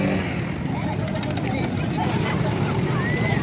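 Trawler boat at Shimulia ghat on the Padma river, its engine a steady low rumble throughout, mixed with water and crowd babble of people nearby.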